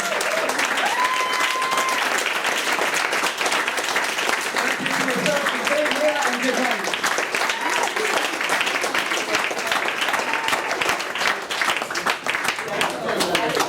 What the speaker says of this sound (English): let's have a big round of applause for our 8 performers tonight